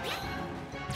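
In Super Smash Bros., a forward smash lands as one hard, crunching crash, close and loud, with a brief swish at its edge.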